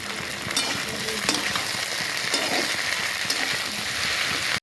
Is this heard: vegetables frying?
yes